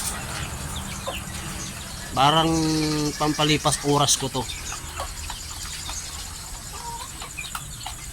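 Pet chickens kept at home, with a burst of loud, nearby harmonic clucking and squawking in the middle, then quieter scattered calls over a steady insect hum, while someone talks.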